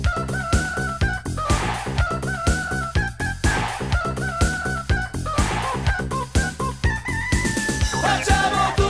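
Rooster crowing rendered in a comedic Italian novelty song, repeated crowing calls riding over a bouncy, rhythmic musical backing, likely a voice imitating the bird.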